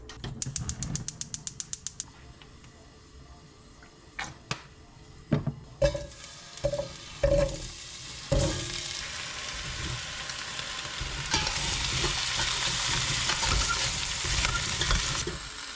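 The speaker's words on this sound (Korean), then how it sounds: "일단 감자와 당근을 먼저 볶아주도록 할 건데요" Rapid clicking at first, then scattered clanks of a utensil in a pot, followed by steady, building sizzling as potatoes and carrots stir-fry in oil.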